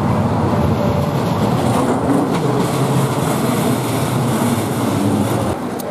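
A suburban train on the Adelaide line rumbles steadily along the rails, a loud, continuous low roar with faint rhythmic clatter heard from inside or close by.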